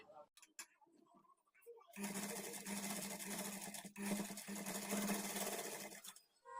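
A sewing machine stitches a folded blouse hem edge, its rapid mechanical whirring running steadily for about four seconds after a stretch of quieter handling sounds.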